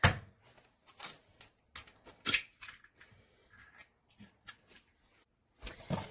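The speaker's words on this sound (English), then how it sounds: "we're going to crack in an egg" An egg is cracked into creamed butter and sugar for a cinnamon sugar loaf batter, heard as scattered sharp taps, clicks and crackles close by, with short silent gaps between them.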